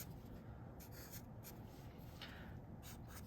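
Marker or pen writing a short word, the letters I, C, E, on a board or paper, several quick soft scratchy strokes over a hushed background hiss, no speech.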